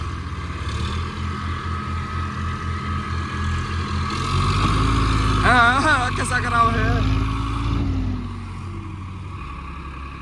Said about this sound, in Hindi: अब चाचा हमारी साइड ला रहा है ट्रैक्टर